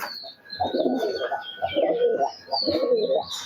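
Pigeons kept for sale cooing, three rolling throaty phrases in a steady rhythm, close and moderately loud, with faint chirps and background voices behind them.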